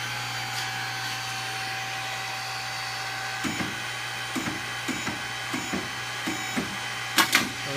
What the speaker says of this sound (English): you hit start, and that starts the hydraulic motor